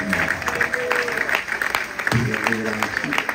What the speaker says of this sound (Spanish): Démosle un aplauso de gratitud al Señor.